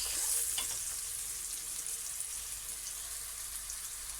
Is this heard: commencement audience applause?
no